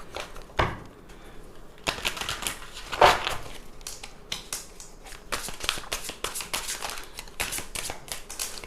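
Tarot cards are shuffled by hand to draw clarifier cards, making a run of crisp, close riffling and flicking bursts that come thicker toward the end.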